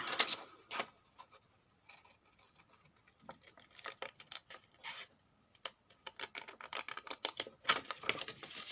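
Scissors cutting paper for a junk journal paperclip embellishment, a quiet series of irregular snips and rustles that bunch up into rapid bursts toward the end.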